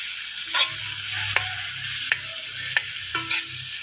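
Banana heart cooks in a pan with a steady low sizzle, punctuated by a handful of sharp spatula taps and scrapes at irregular intervals, with no talking.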